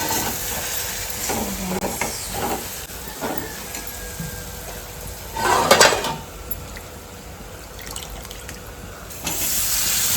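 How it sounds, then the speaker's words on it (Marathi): A spice tempering (phodni) for a home curry sizzles and crackles in a hot pan with a steady frying hiss and one louder burst partway through, heard close with no talk. "मी पटकन पहिला फोडणी देते कालवणाला"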